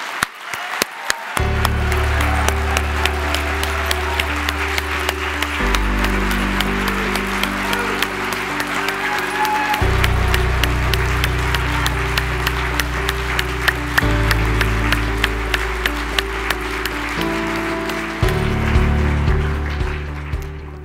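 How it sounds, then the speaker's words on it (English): A ceremony audience at the AAN 2018 Living Legends award ceremony gives a long, steady round of applause while sustained music plays underneath. "please join me in another warm round of applause for our newest living"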